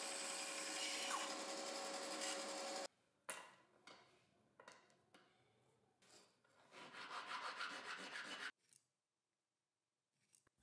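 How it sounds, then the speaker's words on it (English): A bandsaw gives a loud, steady rasping cut through wood for a few seconds, followed by shorter intermittent scraping and handling noises, then another sustained cutting burst before silence. "With the bandsaw, I'll cut the four T pieces to size."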